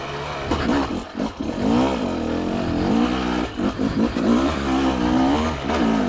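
A 2026 Rieju MR 300i Pro motorcycle engine revs up and down in repeated throttle blips, close and loud, with rising and falling pitch sweeps and a few brief dips between pulls.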